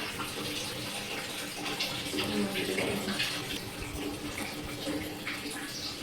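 Water runs steadily from a tap into a container, a continuous close splashing gush that lasts throughout with faint background sounds.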